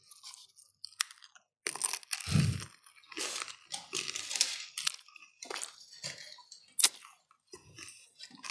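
Crunchy food dipped in guacamole is eaten up close, with repeated sharp crisp bites and steady crunching chews over several seconds, fairly loud, with a few faint clicks between.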